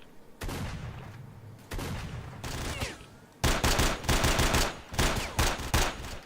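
Gunfire crackles in the video game STALKER: Shadow of Chernobyl, with single shots followed by rapid automatic bursts, loud and close, separated by brief gaps, with no talking.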